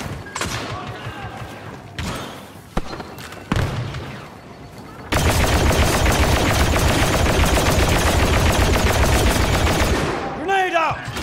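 Automatic gun turrets in the Star Wars Battlefront II game, opening with scattered loud blasts and thumps, then breaking into a dense, continuous close-range barrage that lasts for several seconds.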